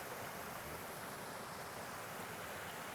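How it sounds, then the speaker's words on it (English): A forest stream runs hard over rocks and around boulders, a soft continuous rushing wash of water, steady and fairly faint, with no other sounds. "The water's running harder, with more force,"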